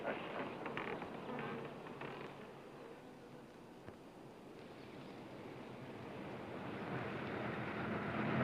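Wasps buzz in an outdoor field as a dense, continuous drone, swelling slightly toward the end, with no talking.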